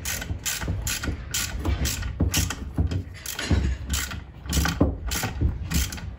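A hand ratchet tightens the ball joint nut on a Pontiac control arm, giving a steady run of rapid pawl clicks in repeated strokes, close and fairly loud with no talking.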